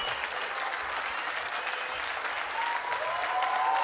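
Steady, dense audience applause welcoming speakers at a literature festival, a continuous wash of many hands clapping at moderate loudness throughout.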